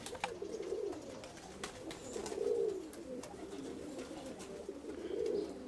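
A gathered flock of pigeons coos softly, low murmuring calls rising and falling in a few slow swells, with faint rustles in the background.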